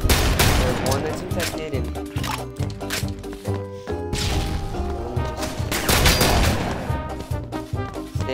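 Shotgun blasts and other gunfire in the zombie mode of the video game Pixel Strikers 3D, with repeated shots over game music and effects while someone talks.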